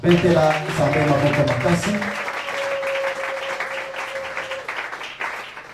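A church congregation applauds during a worship service, a dense wash of clapping under sustained voices and a held sung tone, close and loud before tapering off.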